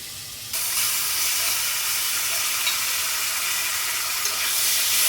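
A paste of tomato, green chili, onion and garlic hits a hot pan, breaking into a loud, steady sizzle that holds evenly for several seconds in a home kitchen, with no talking.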